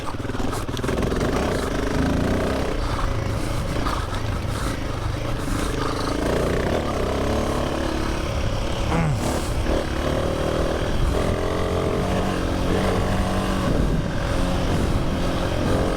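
A Royal Enfield Himalayan 450 motorcycle rides off-road, its engine droning steadily with constant wind rush and rattling clatter, loud and close throughout with no breaks.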